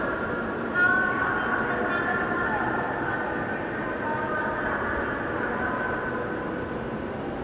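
Loud, steady rumble and rattle of a packed high-speed passenger train running between Shenzhen and Guangzhou, heard from inside a carriage, with a continuous roar throughout and a brief louder bump near the start.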